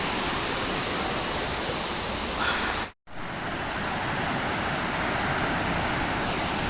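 Water pours down a waterfall at Tinipak in a loud, steady roar of broadband rushing noise, broken only by a brief dropout midway.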